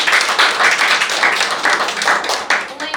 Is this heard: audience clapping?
yes